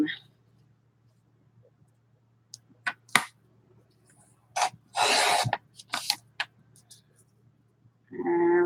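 Scrapbook paper being trimmed with a cutter: a few short, sharp scraping swipes spaced across quiet stretches, ending with a longer rustle of paper handling.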